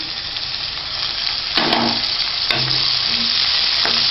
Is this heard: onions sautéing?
yes